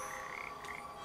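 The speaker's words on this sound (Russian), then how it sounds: "еще лягушки" Frogs croak in the video game Papo & Yo, a steady layered chorus of trills rising and falling over a constant ambient hum, with no voices.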